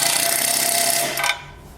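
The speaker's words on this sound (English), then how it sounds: "if you're going to use an electric impact driver like I have" An electric impact driver on nuts whirs steadily for about a second, then winds down and cuts off, followed by faint quiet.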